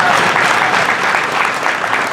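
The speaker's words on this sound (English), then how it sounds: "That is why you should give her a round of applause." Wedding guests at a luxury South Asian wedding reception applaud for Chachi, a loud, steady, full-room roar of clapping hands that carries on without a break.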